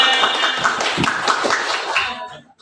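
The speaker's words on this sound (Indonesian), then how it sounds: "Iya, tepuk tangan semuanya." A classroom of students claps hands together, a burst of quick uneven claps and taps close by that runs for about two seconds and then stops abruptly.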